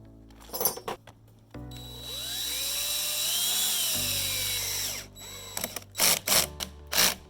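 Power drill boring holes through a stainless steel shade sail anchor plate, a steady whining drill run lasting several seconds with pitch shifts, framed by short clicks and handling knocks before and after.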